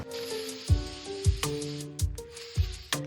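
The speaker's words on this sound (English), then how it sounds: "So I did just spray this down with just this Galaxy textured paint." Short hissing bursts from a can of textured spray paint, repeated several times with clicks and light rattles between them, close and fairly loud.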